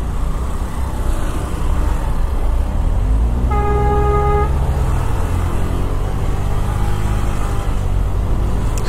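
A car horn honks in Bucharest city traffic, a sustained, loud blare of about a second rising over the steady rumble of engines and road noise.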